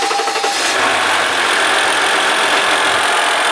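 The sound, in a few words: Dodge Ram 1500 EcoDiesel engine cranking and running with turbo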